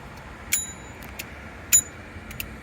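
A cheap bicycle bell bought from Temu gives two short, thin metallic dings about a second apart, fairly quiet against a low background hum.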